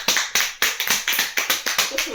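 A small group claps in short, sharp bursts at a French school project, a quick rhythmic run of about ten hand-clap strikes with bright, snappy attacks, close and fairly loud.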